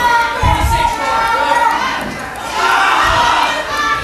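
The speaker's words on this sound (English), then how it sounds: "The crowd now getting behind Garbowski." A wrestling crowd at a live independent show cheers and shouts loudly and continuously, with swelling bursts of noise and excited voices throughout.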